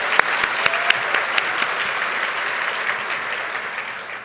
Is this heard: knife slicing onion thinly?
no